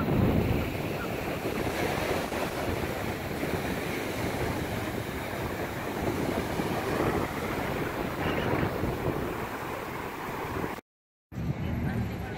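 Ocean waves wash onto a Miami beach in a continuous broad roar, heavy wind buffeting the microphone the whole time.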